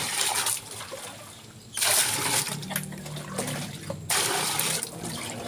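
Drinking water for ducks is poured into a container in bursts, with splashing, trickling flow starting and stopping several times, fairly close.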